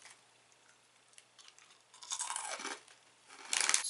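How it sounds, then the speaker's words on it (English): Crunchy yuzu-flavored snack from a Japanese Sakuraco box being bitten and chewed close up, a few bursts of dry crackling crunch with a louder bite near the end, no talking. "Super crunchy. I love the crunch."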